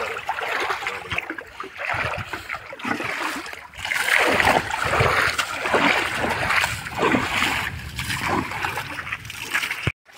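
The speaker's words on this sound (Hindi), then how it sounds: "पानी से ट्रैक्टर को भिगा दिए हैं" Steady rushing spray of water hitting a tractor, loud and close, continuing for several seconds with slight surges.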